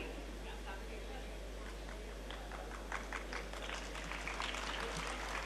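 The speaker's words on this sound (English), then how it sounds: "I think that truly deserves a louder round of applause." Audience applause at a school Hiroshima-Nagasaki Day event, a steady, fairly distant round of clapping from the crowd that swells slightly toward the end, with some murmuring underneath.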